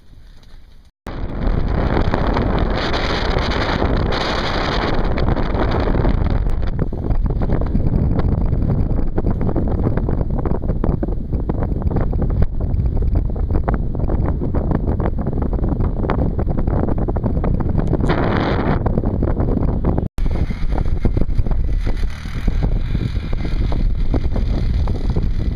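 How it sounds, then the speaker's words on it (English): Strong wind roars and buffets the microphone out on open lake ice during a whitefish ice-fishing outing, a loud continuous rush with gusting surges and no voices. "With the wind fired up now, I'm glad to be able to get set up before the wind got too bad."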